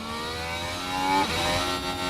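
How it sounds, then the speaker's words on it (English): A Formula 1 car engine in the F1 Manager 2026 racing game, revving high and then dropping in pitch as it ramps down, loud and close with no talk over it. "You hear that engine ramp down."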